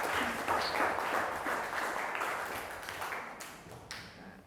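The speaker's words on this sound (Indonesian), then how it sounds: "Kasih tepuk tangan untuk kita semuanya." A classroom of children clapping together, a steady wash of quick overlapping claps that holds for several seconds and gradually thins out toward the end.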